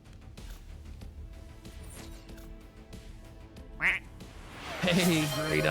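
Cartoonish duck quacks sound as an in-game alert for collecting a daily rubber duck, a short quack near the middle and a louder burst of quacking at the end, over faint background music.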